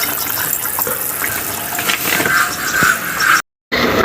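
Fish curry broth with boal fish, taro stolon and potato boiling in a pan: a loud, steady bubbling hiss that drops to a brief silence near the end, with no talk.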